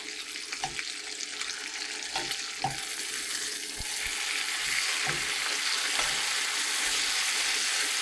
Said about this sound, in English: I'm about to add 4 or 5 strips of bacon because that's all this recipe requires.